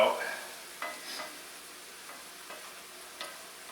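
Ground beef cooking in a pan as its liquid cooks off, a soft continuous sizzle with occasional light scrapes of a spatula, fairly faint and steady.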